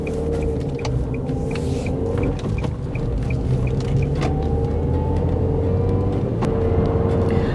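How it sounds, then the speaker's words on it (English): A Nissan Qashqai's engine idles quietly while the car stands still in the hills, a low steady hum with faint intermittent ticking and a brief soft whine in the background. "you can actually see that the engine, when it's standing still, is really quiet."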